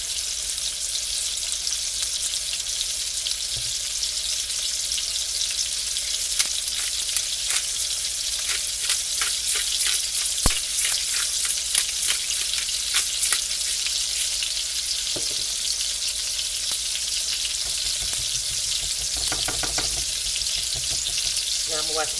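A T-bone steak sizzles steadily in oil seasoned with tamarind and ginger, a continuous bright frying hiss with scattered pops and crackles, close and with no talking.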